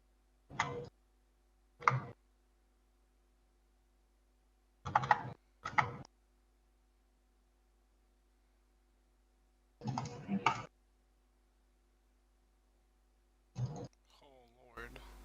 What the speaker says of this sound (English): He was typing, probably.